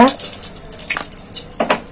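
Oil sizzles and crackles in a pan as spices are tempered with asafoetida and cumin, with quick spattering pops and a soft stir, close up.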